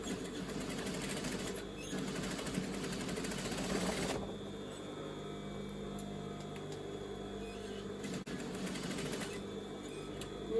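A sewing machine runs elastic down the middle of the overlocking on stretch lace for a petticoat, a loud, fast steady whirr that stops briefly twice and restarts, close up.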